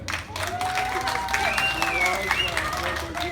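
Audience applause at a resort hotel animation show in Alanya, a steady wash of crowd clapping heard beneath a host speaking over it.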